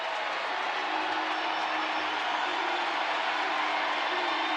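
Stadium crowd at a college football bowl game between New Mexico and Minnesota, a broad sustained roar of cheering, distant and even, with no break across the stretch.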